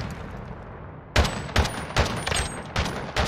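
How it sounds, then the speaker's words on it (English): Bazooka firing in a video game, four heavy booming shots spaced about half a second apart, loud and close after a second of low rumbling ambience. "I got a bazooka."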